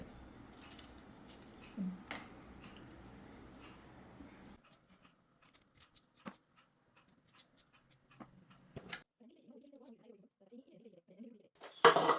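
A knife cuts a fresh beetroot at home, giving sparse, sharp taps and crunches at close range, with a voice speaking at times.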